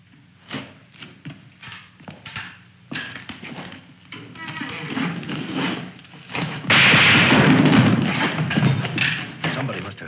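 Gunshots in a 1953 black-and-white war film ring out as several sharp, scattered cracks and thuds, followed by a louder, sustained noisy burst, with voices speaking around them.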